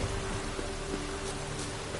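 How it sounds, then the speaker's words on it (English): Steady rain pours down in a downpour in The Witcher 3, a constant dense hiss of drops with no voices, filling the whole stretch evenly. "Midges were biting on account of this downpour."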